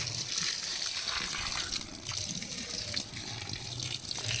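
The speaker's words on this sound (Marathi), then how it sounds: "हे पाणी का टाकायचं असतंय?" Water gushes and splashes steadily onto a wall during construction work, a continuous rushing pour with faint scraping behind it and no clear talk.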